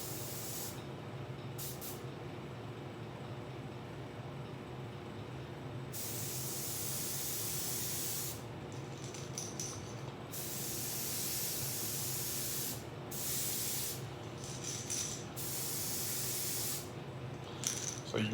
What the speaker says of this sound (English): I'm just gonna mist this bait